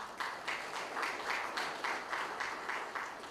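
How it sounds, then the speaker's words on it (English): Audience at a formal speaking event applauding a speaker, a fairly faint, steady round of clapping with a light pulsing rhythm throughout. "Please give her a round of applause"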